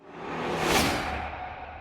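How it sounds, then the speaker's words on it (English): A rising then falling whoosh sweeps through, swelling to a peak midway and fading out, soft and airy with no voices. "For the fill I use a sweep transition sound,"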